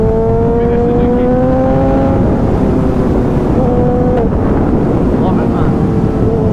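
A 1000cc Suzuki GSX-S motorcycle engine whines upward through the gears, its pitch climbing and then dropping, while heavy wind rushes across the microphone from the moving bike.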